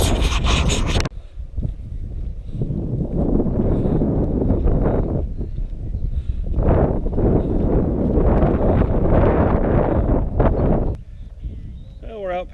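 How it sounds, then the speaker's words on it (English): A stiff headwind blasts a runner's microphone late in the San Luis Obispo Marathon, steady loud buffeting rumble with gusty surges, broken by a short break near the end. "you're running into this really stiff wind"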